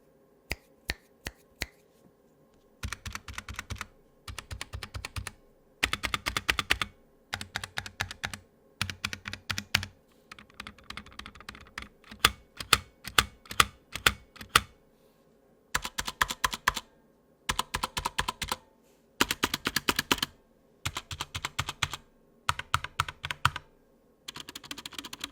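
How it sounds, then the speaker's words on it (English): Typing bursts on a Drop Enter keyboard and a Corsair board with rattling stabilizers, crisp clacks in rapid clusters separated by brief pauses, close and loud, with no speech. "here is a simple test of the Drop Enter and the Corsair board stabilizers before doing the fix"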